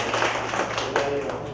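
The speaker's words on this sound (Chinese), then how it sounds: "掌声欢迎" An audience at a calligraphy and painting exhibition opening at a cultural centre breaks into scattered applause, with brief tapping claps under faint background talk.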